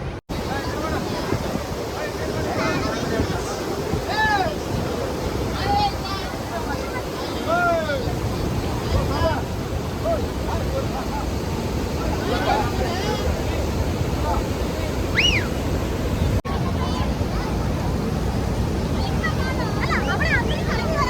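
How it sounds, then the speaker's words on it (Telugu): Hogenakkal waterfall roars as a constant broadband rush of water, close and steady, while people talk intermittently over it and wind buffets the microphone. "ఇగో ఇది అండి వాటర్ ఫాల్స్"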